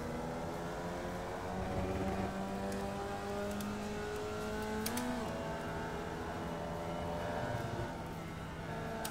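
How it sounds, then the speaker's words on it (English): A Formula Vee race car in the iRacing sim at VIR brakes hard, its engine note sliding down through steady droning tones as it slows, with a brief pitch change midway and no talk. "Braking very hard."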